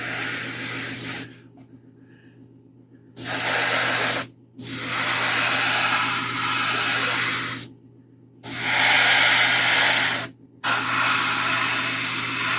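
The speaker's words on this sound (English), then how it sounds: "so I can just pull the trigger and I'll get the same consistent spray." Airbrush spraying in several sustained hissing bursts separated by short pauses, close and steady, with a low hum underneath throughout.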